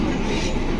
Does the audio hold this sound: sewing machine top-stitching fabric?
no